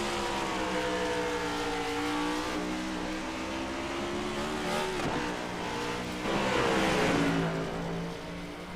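Race car engines roaring in a sim racing game on the Charlotte Roval, a loud sustained multi-car drone with rising and falling revs and a brief downshift near the middle.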